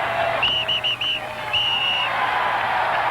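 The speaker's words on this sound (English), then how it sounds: "Get that whistle out of here, would you, man?" Shrill whistle blasts sound in a baseball stadium crowd at the 1980 World Series: a run of short chirps followed by one longer blast, over a steady crowd murmur.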